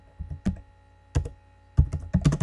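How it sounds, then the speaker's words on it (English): Typing on a computer keyboard, close crisp key clicks in short uneven clusters separated by brief pauses. "type in Pacifica"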